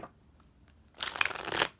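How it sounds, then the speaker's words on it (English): Tarot cards are shuffled in one short, crisp riffle that rises and then stops, alone, after a near-silent moment. "I'm going to shuffle 3 times for you guys."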